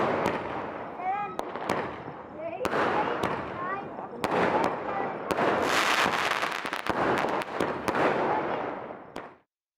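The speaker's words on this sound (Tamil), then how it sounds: "பட்டாசுகளை வெடித்து மகிழ்ந்தனர்" Firecrackers crack and pop repeatedly at irregular intervals over a dense, noisy background of crowd sound and distant bangs during a Tamil festival celebration.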